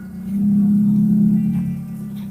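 Car pulling over and coming to a stop, a low steady engine drone that swells, holds, then eases off as the vehicle settles, close and fairly loud with no speech.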